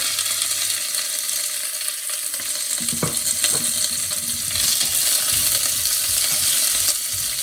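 Chopped onions and curry leaves sautéing in oil for Sri Lankan yellow rice, an even hiss of frying with a couple of sharp metallic clinks and spatula knocks near the middle, close and free of speech.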